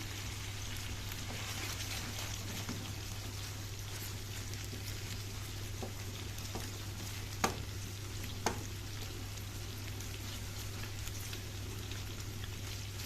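Liver fries in a hot pan with a steady, faint sizzle and crackle under a constant low hum, with a couple of soft clinks near the middle and no talking.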